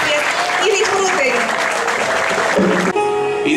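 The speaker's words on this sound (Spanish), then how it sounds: "vamos a dar un aplauso a nuestro presidente de la República" Audience applause for the country's president at a school Christmas light-switching ceremony, loud and steady, mixed with talking and bits of tonal sound throughout.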